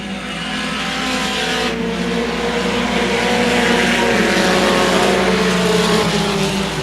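Race cars roar past at Houston Motorsports Park during the Liberty Bell 200, with a loud, continuous engine drone that builds and holds steady, several cars overlapping, and no voices.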